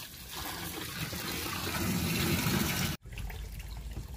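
A garden hose pours water into an outdoor fish pond in a steady rushing gush that briefly cuts out, then resumes more softly, close and continuous with no talking.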